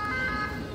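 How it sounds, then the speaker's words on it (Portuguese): An ambulance siren wails steadily on a busy street in Seville, Spain, with traffic noise beneath it, briefly and at moderate distance. "Ambulância."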